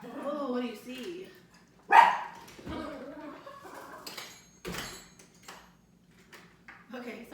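Several sharp barks from dogs inside a house, mixed in with a person talking, then quieter stretches with small knocks.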